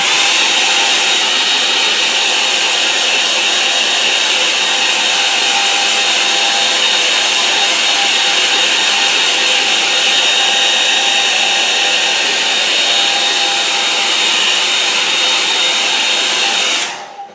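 Hair dryer blowing steadily on mixed media paint, a loud continuous whir holding the same pitch from start to finish before cutting off abruptly at the very end.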